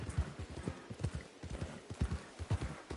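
Steady clip-clop of horse hooves at a walking rhythm in the video game Red Dead Redemption 2, continuous and fairly quiet, with faint background ambience; the horse is tired.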